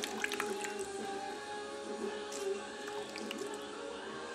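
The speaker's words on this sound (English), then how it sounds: "Squeezed it out as much as I could" A water-soaked cloth is wrung out, giving faint squishing and a few sparse, quiet drips close by.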